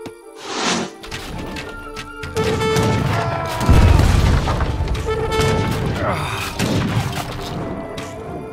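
Bombard cannons fire during an Age of Empires III: Definitive Edition battle, with repeated heavy booms and crashing impacts over dense battle noise, one blast especially deep and loud, while voices speak throughout.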